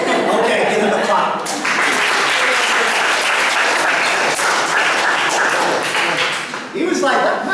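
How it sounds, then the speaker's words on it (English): An audience bursts into loud, dense applause that runs steadily for several seconds. A few voices and some laughter sound faintly under the clapping, which briefly dips near the end before picking up again. "give them a clap"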